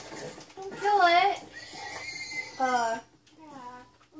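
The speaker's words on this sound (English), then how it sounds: "It's a white horsey!" A white horse in Minecraft whinnies in several short, high, wavering neighs, close and loud, with a voice speaking in between.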